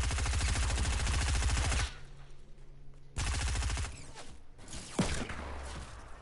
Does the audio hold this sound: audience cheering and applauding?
no